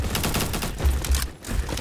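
Rapid bursts of sniper rifle gunfire in the video game Bad Business, loud, close, repeated shots overlapping in a dense fusillade with no talking.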